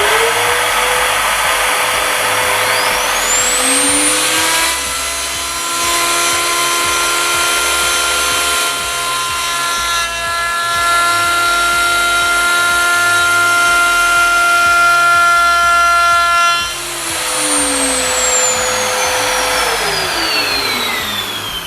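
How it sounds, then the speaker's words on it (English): A router cuts a scribing pass along a wood edge on a dovetail jig. The motor whines as it spins up, holds a loud, steady high-pitched drone while cutting, then winds down again. "using the router, we want to do a scribing cut along this edge to prevent any tear out in later cuts"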